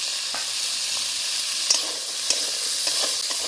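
Vegetables frying in a pan give a steady, close sizzle, broken by a couple of sharp clinks from stirring.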